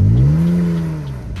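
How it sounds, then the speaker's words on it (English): A drift car's engine revs through a small hanging exhaust: one loud, close rising-then-falling drone that holds steady before easing off, heard alone. "It sounds pretty good for that little hanging exhaust."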